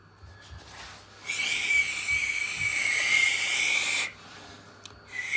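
A person whistles a steady, high tone into a phone on speakerphone while setting up a 1984 Convergent Technologies Workslate WK-100 data link, the whistle lasting about three seconds over faint background hiss.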